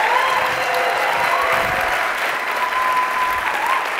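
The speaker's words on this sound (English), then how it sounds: "can you all join me in giving Marcus a huge round of applause?" Sustained audience applause fills a showcase final for a fast pitch event, a dense steady wash of clapping hands that holds evenly loud throughout with no voices breaking through.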